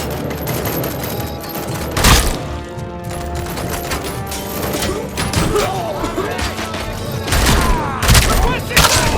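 Gunfire in the RoboCop: Rogue City video game, loud repeated bursts of shots with heavy booms and crashes, clustered near the start and end, over a busy combat din with shouted voices.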